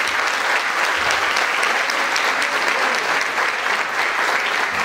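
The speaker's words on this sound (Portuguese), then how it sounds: "Você pode aplaudir o Senhor e faça aleluia." A church congregation applauds during a traditional evening service. It is a loud, steady wash of many hands clapping together, continuous for about five seconds with no voices standing out.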